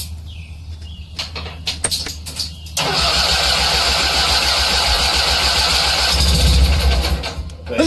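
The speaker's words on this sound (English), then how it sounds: "Cranking over the engine." A Simplicity Sunstar lawn tractor engine cranks in short starter bursts, then catches and settles into a loud, steady running drone close by.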